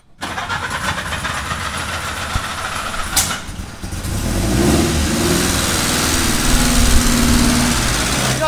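Old military vehicle engine, just fitted with a rebuilt carburettor, cranks, catches and settles into a steady, fairly loud running rumble. It stays close and runs smoother after a brief surge.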